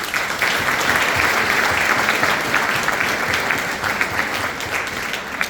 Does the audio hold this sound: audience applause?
yes